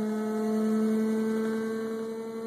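Steady electrical hum and vibration from a ten-coil monopole generator charging a bank of 48V 2000Ah batteries at around 5 amps, a constant close drone with a faint higher whine and no voices.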